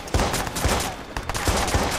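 Gunfire from the video game Watch Dogs rings out in rapid, punchy bursts, several sharp shots close together and loud throughout the short stretch.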